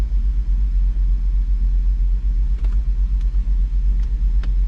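A Jeep SRT-8 engine idling with a cylinder 1 misfire, a loud steady low rumble with slight uneven pulsing, close up and without voices.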